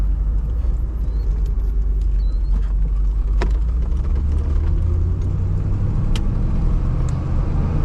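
A 1978 Chevy Corvette V8 running with an exhaust leak, heard from inside the car as a steady, deep, rumbling drone at constant volume with occasional faint clicks, no talking.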